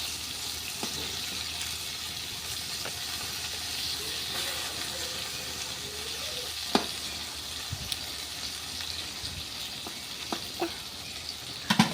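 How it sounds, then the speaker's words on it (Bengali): Sliced pointed gourd (potol) frying in a hot pan gives a steady, close sizzle and hiss, with a few sharp clinks and scrapes as the pieces are stirred. "পটল ভাজা করতেছি।"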